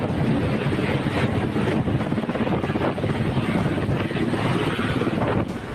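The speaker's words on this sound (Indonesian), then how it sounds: "Empat helikopter dikerahkan." Helicopter during a rescue evacuation from a forest emergency landing site in Kerinci, Jambi: a steady, loud rotor thrum with a fast beating pulse and wind buffeting the microphone throughout.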